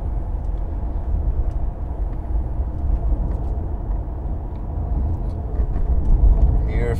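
A 2009 Mercedes E320 Bluetec diesel sedan accelerating under throttle, its low engine rumble and road noise swelling steadily from inside the cabin as someone talks over it.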